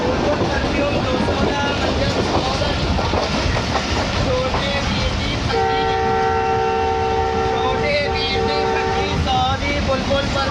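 Train passing through Chak Jhumra Junction in Pakistan without stopping, a loud continuous rumble and rattle of rolling cars with a sustained horn blast partway through.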